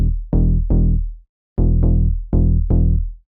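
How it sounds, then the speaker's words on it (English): Punchy electronic synth bass for Afro tech, EQ'd and driven through Fruity Fast Dist distortion, playing a short pattern of loud, buzzy sustained notes that decay between hits, with a brief gap mid-phrase. "Now I want to add some more punch with this EQ and a bit of more distortion with this fruity fast dist, and then it sounds like this."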